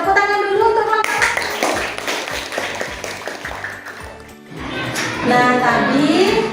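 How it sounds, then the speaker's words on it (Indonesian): A classroom group claps for a group that has just presented, a few seconds of scattered hand claps between stretches of a voice talking. "Tepuk tangan dulu untuk kelompok 1"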